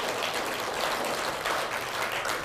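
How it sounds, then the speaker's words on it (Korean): Steady applause from a church congregation during a worship service, a dense, even wash of clapping that holds at a moderate level from start to finish with no voices. "우리 하나님께 영광의 박수를 올리겠습니다"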